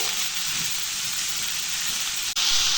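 A quarter kilo each of ivy gourd and carrot frying and being mixed in coconut oil, a steady close sizzling hiss with one brief break near the end.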